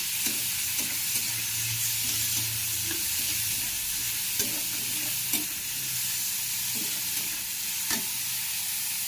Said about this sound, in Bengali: এবারে এটা হালকা করে ভেজে নেব